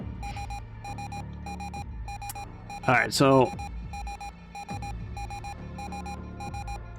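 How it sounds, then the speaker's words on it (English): Docking alarm in the space game Ostranauts, beeping in a steady repeating pattern of short electronic tones that runs through the whole stretch, with a person talking over it. "How do I stop the beeping?"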